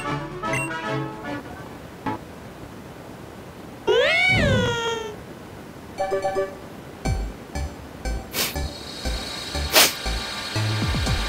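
In Pokémon X, the lion-like Pyroar gives a single loud, rising and falling roar-like cry after evolving, set among short electronic game chimes and clicks that come before and after it.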